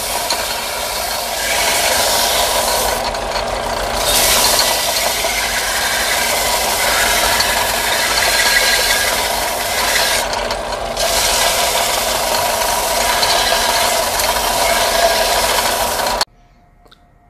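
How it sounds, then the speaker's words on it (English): Small wooden pieces for a 2x2 farm-style lantern being sanded, a steady loud rasping drone running continuously for about sixteen seconds before cutting off abruptly. "we're just going to speed through and sand all our pieces down"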